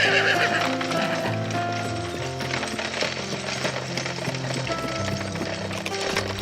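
Horses clip-clop steadily with repeated neighing and whinnying as teams of men and horses break soil and dig canals for the 1893 Chicago World's Fair, dense and continuous throughout.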